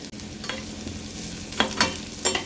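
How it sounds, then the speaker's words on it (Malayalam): Masala for paneer bhurji sautéed in a heavy-bottomed steel pan, with a steady sizzle of frying under three or four sharp spatula scrapes close by and no voices. "ഇത് നല്ലോണം ഒന്ന് വഴറ്റി വന്നു കഴിഞ്ഞാൽ ആ പച്ചമണം മാറുന്നവരെ ഒന്ന് വഴറ്റിയാൽ മതി."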